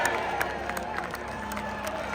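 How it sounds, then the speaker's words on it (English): A crowd of Wrexham fans cheers and claps along a packed street route as the team bus passes, a steady roar of mixed applause and voices with some talk nearby. "There's mass at the front to applaud the fans."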